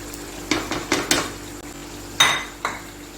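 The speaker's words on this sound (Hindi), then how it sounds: "इसको अच्छी तरह मिक्स कर देती हूँ" Spiced potatoes mixed in a pan with red chilli, turmeric, coriander and nigella seeds, a spoon clanking and scraping against the metal in a quick cluster of knocks, then two louder strikes over a faint sizzle.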